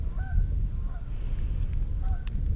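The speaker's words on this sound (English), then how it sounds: "we got some Canada geese flying up there" Canada geese flying south honk in short nasal calls overhead, a few spaced bursts, fairly distant, over a steady low outdoor rumble.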